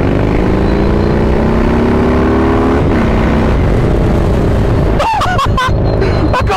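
Harley-Davidson motorcycle fitted with the RBW-Skull riding mode accelerating hard in second gear, a loud engine roar with rising pitch that fades out, followed by a few sharp bursts and pops near the end.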